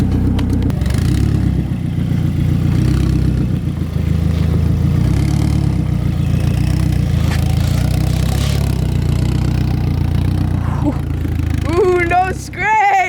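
A Mazdaspeed 6 engine idles with a steady, loud low rumble that holds almost unchanged, ending with a brief burst of higher sounds near the close.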